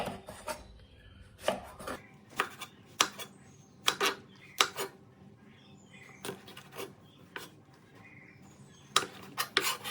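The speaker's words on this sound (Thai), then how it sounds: "ต่อมานะคะเราก็จะมาหั่นกระเจี๊ยบกันค่ะ" A knife chops okra on a cutting board in sharp, irregular taps, some in quick pairs, close and quiet against a faint room hum.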